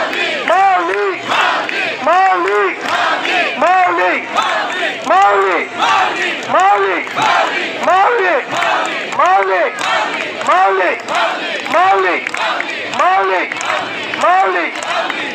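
Crowd of pilgrims in the Sant Dnyaneshwar palkhi procession, travelling from Alandi to Pune in 2024, chanting loudly in a steady, rapidly repeating call-and-response rhythm that continues without a break, close and dense throughout.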